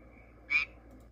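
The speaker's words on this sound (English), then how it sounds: "California tree frog." A single short, buzzy call of a California tree frog, close and distinct, rising briefly out of a quiet background.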